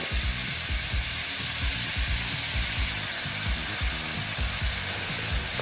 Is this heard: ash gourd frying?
yes